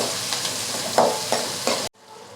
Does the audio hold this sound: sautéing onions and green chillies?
yes